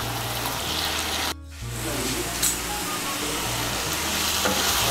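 Ash gourd mixed with ginger paste cooking in a pan over high heat, a steady close sizzle with stirring scrapes, briefly interrupted by a short gap.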